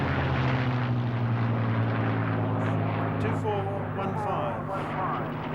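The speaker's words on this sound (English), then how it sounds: "That sound has got an identical engine to the Spitfire." Warbird propeller aircraft with the same engine as the Spitfire, droning steadily and loudly throughout at an air show at Wanaka, with a commentator's voice over it.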